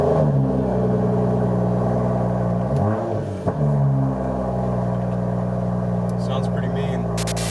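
A BMW 235i/335i/435i with a gutted interior starts up and settles into a loud, steady, deep-toned idle with one brief rev dip midway. A voice talks over the engine.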